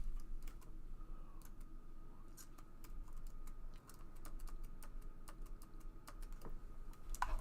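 Someone types on a computer keyboard nearby, with scattered, irregular clicks and taps over a quiet background hum.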